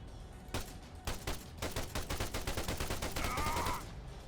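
Gunfire in the video game ARMA 3 comes as a rapid automatic burst, with sharp, evenly spaced shots rattling close and loud for several seconds.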